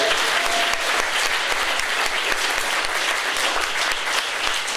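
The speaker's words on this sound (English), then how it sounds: "a round of applause for everybody working tonight at the Trumpet Blossom" An audience at a comedy roast in a cafe breaks into loud, sustained applause, a dense wash of many hands clapping steadily throughout with faint crowd noise underneath.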